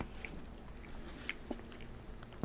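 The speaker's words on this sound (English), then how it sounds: "First bite." A close, crunchy bite into a cheeseburger with ketchup, onions and pickles, marked by a few short sharp crunches and soft chewing sounds, with a final cluster of bites near the end.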